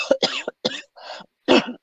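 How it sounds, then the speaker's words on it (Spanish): A person coughs in several sharp, close bursts, five separate hacks with short pauses between them, loud and alone with no talking. "estoy tosiendo"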